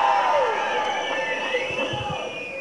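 An audience at a Tamil film audio launch cheers and claps continuously, a dense crowd roar with shouting and whistles throughout.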